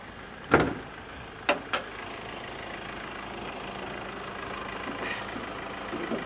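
A 2019 Mazda BT-50 pickup's 2.2 diesel engine idles smoothly and quietly, a soft steady hum under a few sharp clicks and knocks near the start.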